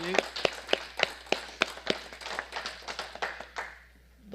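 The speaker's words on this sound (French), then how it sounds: "je pense qu'une main d'applaudissement s'impose" A small group applauding a retiring official at a municipal council meeting, sparse, distinct claps that quicken into a brief patter and fade out within a few seconds.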